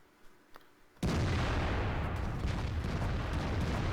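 Tank guns firing in a tank video game during a clan war battle, a sudden loud boom after a quiet second that rolls into a sustained heavy rumble of gunfire, with no talking.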